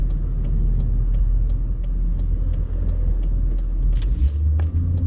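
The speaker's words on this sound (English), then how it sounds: "So there's a whole lot of cross traffic, and our light's about to turn green." Cross traffic passing through a Las Vegas intersection, a continuous low rumble of car engines and tires with a vehicle swelling louder near the end, heard from a car waiting at the light.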